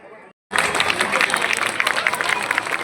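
Following a short quiet gap, applause breaks out at a felicitation ceremony for newly appointed Trinamool Congress block officials in Barasat, a dense crowd clapping with murmured chatter underneath.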